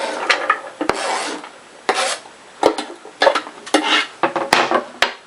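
Chopped ingredients for a homemade soup scraped and dropped into a cooking pot, a close series of rasping scrapes and rubs punctuated by sharp clicks and knocks of a utensil against the pot.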